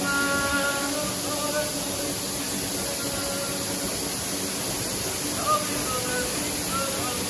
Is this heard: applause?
no